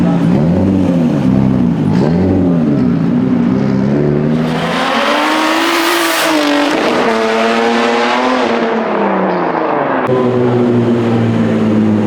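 A big-turbo Nissan 350Z street car roars loudly and close up, revving hard with rising and falling engine pitch and a surge of turbo whoosh partway through.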